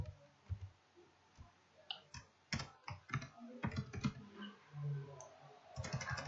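Computer keyboard typing heard up close: scattered clicks and short bursts of keystrokes with pauses between, fairly quiet, no voices.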